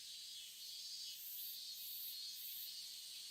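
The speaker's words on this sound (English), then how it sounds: "I hear cicadas everywhere." Steady, high-pitched cicada drone fills a summer scene at a temple in a video game, with a pulsing shrill buzz continuing throughout, no voices.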